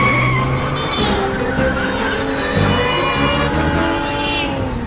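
Cartoon car tearing the wrong way down a busy street, engine roaring with sustained tire squeals and skids amid traffic noise and horn-like tones, loud and continuous throughout.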